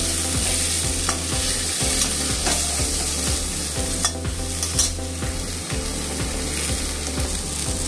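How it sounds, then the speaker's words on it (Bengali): Potato, pointed gourd and drumstick fry in oil while being stirred, a steady close sizzle broken by rhythmic scraping strokes of a utensil against the pan. "এই সবজিগুলোকে একটু ভেজে নেব।"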